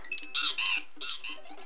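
Bird squawking in a Super Mario World hack video game, a short burst of several bright, chirpy game-sound squawks, close and moderately loud, with no talk.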